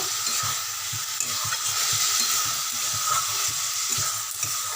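Shredded cabbage fries in a pan with no spices, giving a steady broadband sizzle with soft stirring scrapes and taps throughout, close and continuous with no voices.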